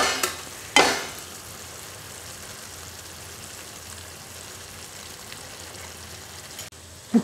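A spoon scrapes through pudina rice with fried mint in a pan, with a couple of sharp stirring strokes near the start and one at the end over a soft, continuous sizzle.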